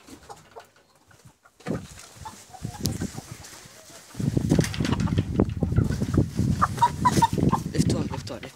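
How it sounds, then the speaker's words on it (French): A laying hen clucks in a small flock, with short repeated bursts that start sparse and grow busier and louder, close to the listener over faint background voices. "La petite poule qui pond."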